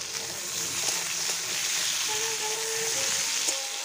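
Cauliflower, carrot and beans frying together in a pan for khichdi, giving a constant close sizzle with faint stirring scrapes throughout.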